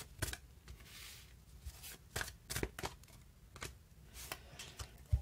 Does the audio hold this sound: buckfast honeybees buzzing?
no